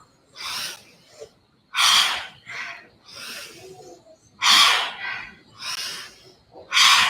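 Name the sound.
forceful Bhastrika pranayama breathing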